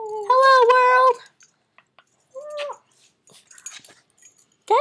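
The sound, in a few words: puppy dog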